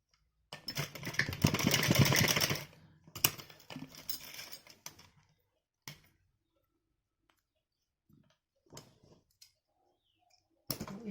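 A sewing machine stitches fabric for a top in a loud whirring burst of about two seconds, followed by shorter runs and scattered clicks and handling noises between quiet pauses.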